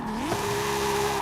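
An engine-swapped Audi drift car in the video game Forza Horizon whines steadily at high revs, its pitch sliding up briefly then holding, with a rough, buzzing tone throughout.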